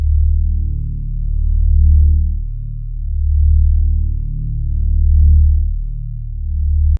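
Infinity sub bass from an anti-matter sound bank in FL Studio, dry with no effects, plays root notes as a deep, loud, sustained tone that swells and dips in slow repeating waves, alone.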